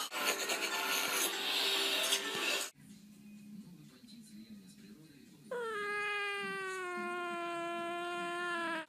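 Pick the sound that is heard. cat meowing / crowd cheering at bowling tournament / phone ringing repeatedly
cat meowing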